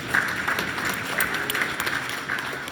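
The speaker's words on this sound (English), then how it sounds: "For a round of applause for those that helped." Scattered applause from a small crowd at a family reunion, steady light clapping running throughout at moderate distance, with a few voices murmuring underneath.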